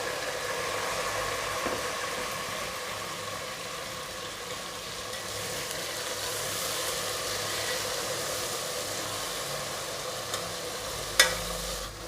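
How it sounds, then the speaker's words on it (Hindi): Chopped tomatoes go into a hot pan for matar pulao, producing a continuous soft sizzle and stirring scrape with a faint low hum beneath and a sharp clink near the end. "ये देखें, अब इस स्टेज पर हम इसके अंदर टमाटर डाल देंगे।"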